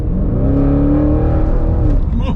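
Close, loud rumble from the Akrapovic exhaust of a 750bhp ABT-tuned Audi RS6, a steady throaty drone with a slight rise, partly under a voice.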